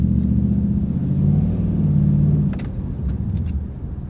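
A lifted pickup truck with a V8 engine drives along a road, its low engine rumble steady and loud throughout, with some road noise and faint rattles.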